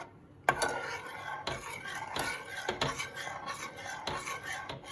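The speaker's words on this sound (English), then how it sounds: "I just keep stirring this till it melts" A utensil stirring a milk and cheese Alfredo sauce in a pan, repeated close scraping and clinking strokes against the metal in an uneven rhythm, with no talking.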